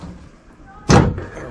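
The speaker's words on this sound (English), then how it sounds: "grab that taillight assembly and pull it straight out" A taillight assembly is pulled straight back out of a 2020 RAM 1500 Classic's body, giving one short, loud scraping thump after a quiet stretch of low background noise.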